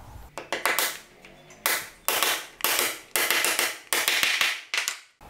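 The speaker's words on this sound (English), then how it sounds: "just tap it home nice and evenly with a copper hammer." Copper hammer tapping a bearing onto the vacuum pump shaft of a YD25 Navara diesel engine with a socket, a string of sharp ringing metallic taps in irregular bursts, close and loud, no talking.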